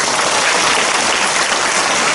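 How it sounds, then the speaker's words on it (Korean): A church congregation claps together in a dense, loud burst of applause that fills the room evenly from start to finish. "우리 주님께 영광을 박수 드립니다."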